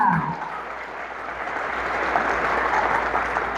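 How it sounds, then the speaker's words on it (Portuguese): A church congregation claps together after a call to applaud the word of God, a dense steady wash of hands filling the room for several seconds at moderate loudness. "Vamos aplaudir a palavra de Deus? Com força, porque ela é viva"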